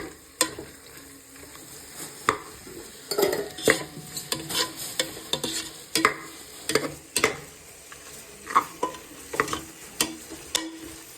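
Chopped tomatoes for biryani sizzle in a pan while a utensil scrapes and stirs them in sharp, uneven strokes close by, with no talk.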